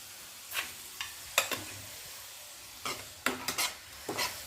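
Yogurt stirred into chillies frying in a pan for dahi mirchi, heard as a series of separate scraping and clattering stirs over a soft, steady sizzle, with quiet gaps between strokes.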